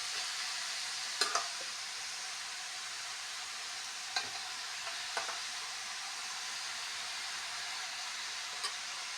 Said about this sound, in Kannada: ಲಾಸ್ಟ್ ಫೈನಲಿ ರೈಸನ್ನು ಹಾಕ್ತಾಯಿದ್ದೀನಿ